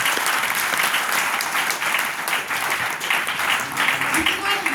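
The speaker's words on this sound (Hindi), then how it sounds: "एलबीएन इंटरप्राइजेज रंजन कुमार सर के लिए जोरदार ताली से अरे गजब।" Loud, sustained applause from a meeting audience at a company event, dense clapping continuing steadily throughout with a faint voice underneath.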